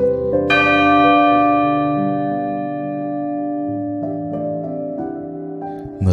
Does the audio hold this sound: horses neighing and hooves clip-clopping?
no